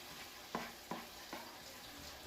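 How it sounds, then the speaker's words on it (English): Soft sizzling of food frying in a pan for haluski, with a few sharp clinks of a utensil stirring at intervals. "Finally, they're starting to sizzle."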